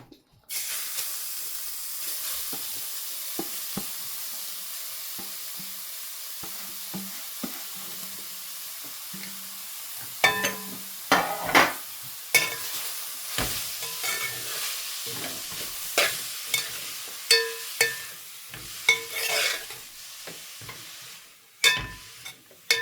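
Grated bottle gourd frying in a couple of spoons of ghee, a steady close sizzle and hiss with repeated scraping and stirring clatters growing busier in the second half, no voices.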